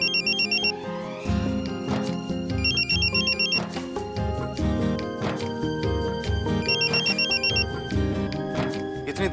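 Electronic telephone ringtone trilling in short repeated bursts over background music, fairly loud and close.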